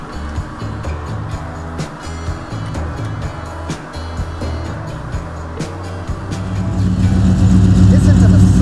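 Dodge Charger General Lee replica from The Dukes of Hazzard with a steady low engine rumble that swells louder toward the end, heard up close with faint talk or background noise mixed in.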